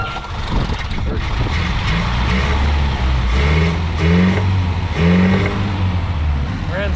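An abandoned vintage Mercedes engine revs hard and loud, a steady roaring drone with rising surges near the end, while people talk over it.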